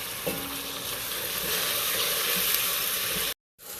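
Tomatoes and green chilies sizzle steadily in a hot frying pan, a dense continuous crackle with stirring, running alone until a brief cut near the end.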